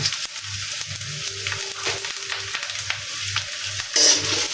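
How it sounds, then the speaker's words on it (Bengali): Chopped onions frying in a pan for a dried fish dish give a steady sizzle, with rhythmic scraping strokes of a spatula stirring and a brief brighter hiss near the end. "এবার পেঁয়াজটাও ভেজে নেব কিন্তু পেঁয়াজটা খুব বেশি লাল লাল করে ভাজবো না"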